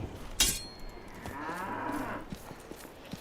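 A sharp hit sounds, then a cow in a video game gives one drawn-out moo, moderately loud, with faint clicks around it.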